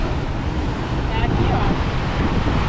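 Ocean surf breaking against shoreline rocks on a coastal trail near Praia do Ouvidor, Garopaba, Santa Catarina: a continuous loud roar of churning water and wind noise, with a slightly stronger surge midway.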